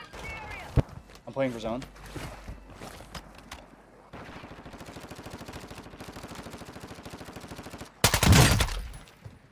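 Gunfire in Warzone 2, a sustained rapid machine-gun rattle for several seconds, moderately loud and close, with scattered single shots and a loud blast near the end, and players talking before it.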